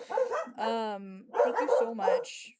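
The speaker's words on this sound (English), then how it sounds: "I'm so sorry about my dogs." Pet dogs barking and whimpering indoors, a run of yips and whines close by, mixed in with someone speaking.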